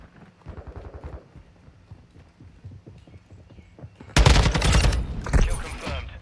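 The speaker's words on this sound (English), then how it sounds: "I was definitely shooting at him." A TAQ-56 rifle fires in Call of Duty Modern Warfare II, a loud, sudden burst of rapid shots breaking in after quieter footsteps and movement sounds.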